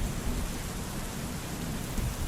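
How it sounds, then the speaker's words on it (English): Steady rain falls without pause, a dense continuous hiss of drops with a low rumbling undertone, fairly loud and even throughout with no voices. "It's raining again."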